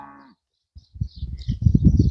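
Cattle on a farm give a clear close moo at the start, then after a brief pause louder, deeper lowing and grunting builds and continues to the end.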